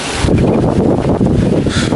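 Typhoon Goring's wind blows hard over rice paddies in Roxas, Isabela, a loud, continuous rushing roar that batters the microphone throughout.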